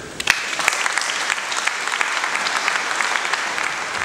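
An audience in a large festival hall applauds at an awards celebration, steady dense clapping from many hands filling the room throughout, with a few sharper individual claps standing out near the start.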